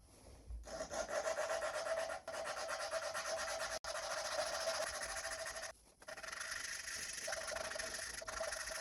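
A suction-cup lapping tool twists a valve back and forth against its seat in a four-stroke ATV cylinder head, giving a continuous close gritty rubbing rasp with a few brief pauses and no talk.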